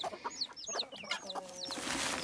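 Backyard hens cluck in short repeated bursts close by, busy and irregular, with rustling in the background.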